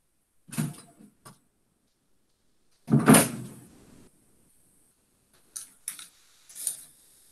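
A house door opened for a cat: a latch click, then a louder handle clack and creak, followed by a few lighter clicks and a soft thud, close and sharp amid silence.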